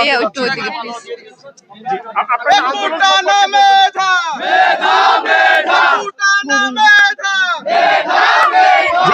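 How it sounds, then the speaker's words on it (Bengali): Students at a university protest in Patuakhali chant slogans in loud, rhythmic call-and-response bursts, a lead voice answered by a crowd shouting in unison, close and continuous throughout. "সেখানে শিক্ষার্থীরা বিভিন্ন ধরনের স্লোগান দিচ্ছে"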